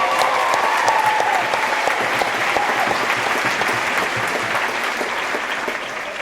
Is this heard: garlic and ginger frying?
no